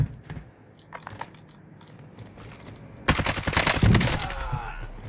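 Gunfire in Warzone, the Call of Duty battle royale: scattered faint shots and clicks early on, then a sudden loud, dense burst of rapid automatic fire that keeps rattling to the end.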